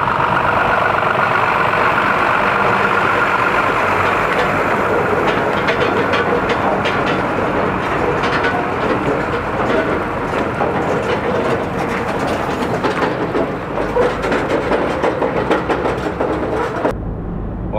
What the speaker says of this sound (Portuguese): Olha como passa perto o caminhão, hein?